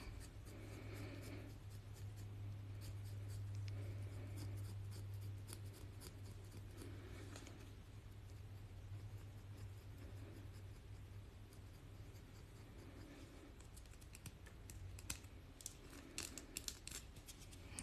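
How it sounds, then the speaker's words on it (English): A callus shaver blade scraping over the skin of the hands, a steady soft rasping across the whole stretch, fairly quiet and close, with a low hum underneath and no talking. "This blade might be getting dull. I probably have to switch it to a fresh one. This tool is called a callous shaver."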